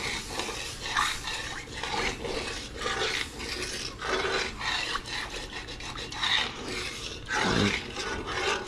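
A spoon scraping the bottom of a pot as chicken stock is added while cooking arroz con gandules, giving continuous close rasping and scraping strokes with a steady liquid sizzle underneath.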